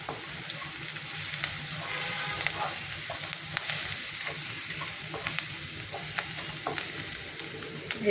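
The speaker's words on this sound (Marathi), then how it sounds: "कांदा पण चांगला आपण लाल करून देऊ मस्त. मग त्याच्यात टाकू हळद." Onions frying in a pan with turmeric for tomato poha: a steady, close sizzle with frequent scraping stir strokes throughout, no voices.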